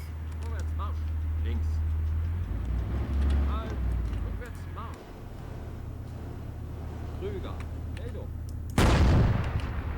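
A tank shell strikes just ahead in the ARMA 3 Cold War Germany campaign, a sudden loud blast late in the clip after a steady vehicle engine rumble with faint distant firing, and a voice speaks partway through.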